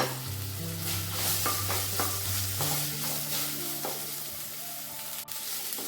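Chopped onions sautéing in a hot pan for tomato rice, a steady close sizzle with periodic scraping stirs of a spoon, continuous and without talk.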